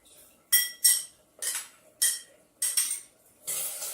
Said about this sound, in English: I'm just going to stir that around